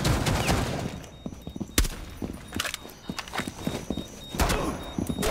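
Gunfire shooting through walls in the Rainbow Six Siege video game: a few sharp, loud shots and short bursts crack out over a busy in-game background, with a strong blast near the two-second mark and another late in the sequence.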